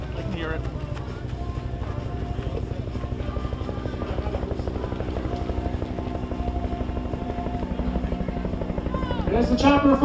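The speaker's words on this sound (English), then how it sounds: "There's the chopper, folks." A helicopter flies over a military parade for an Iwo Jima flag raising anniversary, its steady rotor thump loud and continuous while an announcer talks over it.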